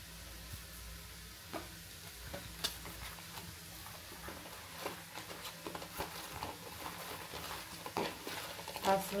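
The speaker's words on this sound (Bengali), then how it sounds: "একটু সাদা তেল, সামান্য সাদা তেল আর সামান্য একটু লবণ দিয়ে মাখিয়ে রাখবো।" Pointed gourd pieces mixed by hand with white oil and salt: soft, close squelching and light tapping in an irregular rhythm, with faint sizzle-like rustle throughout and no clear talk.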